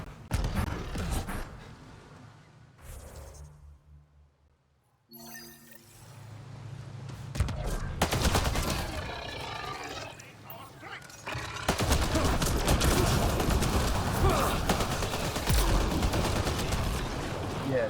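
Gunfire from Mass Effect Andromeda comes in scattered shots early, then a long sustained barrage of heavy weapon fire with background game noise and a voice speaking at times.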